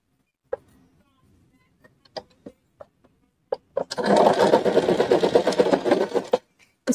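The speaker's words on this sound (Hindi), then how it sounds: "इस पे भी मैं डबल सिलाई लगा रही हूँ।" A sewing machine double-stitches a salwar hem strip, starting with a few scattered clicks and taps of handling, then running in a steady, fast whirring burst for about two and a half seconds before stopping.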